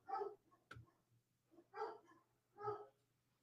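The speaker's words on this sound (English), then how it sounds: "I'm so sorry about my dogs." Several dogs just back from a kennel bark in three loud bursts separated by short pauses, with a steady low hum running underneath.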